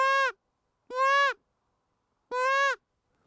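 A predator call blown to imitate a whitetail deer fawn bleat gives three short, nasal, wavering cries, close and clear, separated by pauses of about a second, with silence between them.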